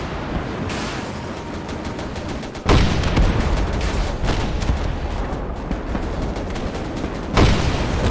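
A World War II battle in Gates of Hell with KV-2 tanks, artillery waves and bombers: dense, continuous gunfire and rumbling with sharp explosive impacts, several heavy booms standing out over the constant din.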